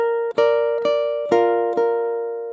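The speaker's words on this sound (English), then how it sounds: "So measure 26 is going to sound like this." Ukulele notes plucked one by one for a measure, four clear ringing notes evenly spaced and left to sustain, close and alone.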